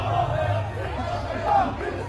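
Arena crowd at an NXT wrestling show chanting in unison, a loud, steady chorus of many voices with a rhythmic rise and fall.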